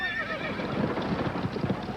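A team of runaway horses neighing and whinnying loudly over rapid, pounding hoofbeats of a gallop, with a faint voice mixed in.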